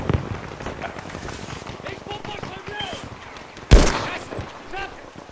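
Gunfire in the Battlefield V video game, a sharp loud shot standing out near the end over steady game noise and distant crackling, with players talking throughout.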